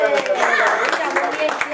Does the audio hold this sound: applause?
yes